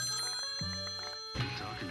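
A telephone rings inside a Minecraft game, a quiet electronic trilling tone with repeated bell-like pulses over about two seconds, the pitch shifting partway through.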